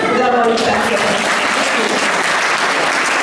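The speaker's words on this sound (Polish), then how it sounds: "ogromne brawa" Warm, sustained applause from a gala audience greets a group of senior dancers from a university of the third age, full and steady from start to finish with a brief voice at the very beginning.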